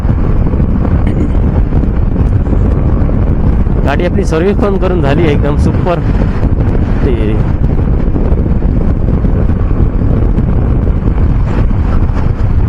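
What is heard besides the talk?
strong wind on a motorbike ride up Malshej Ghat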